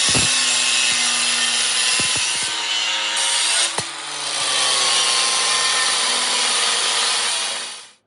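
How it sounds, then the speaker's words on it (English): An angle grinder cutting diamond plate metal for a box, a loud continuous high-pitched whine with a few sharp knocks as the cut shifts, running steadily before winding down at the end. "the corners aren't all cut perfectly because I am cutting with a grinder"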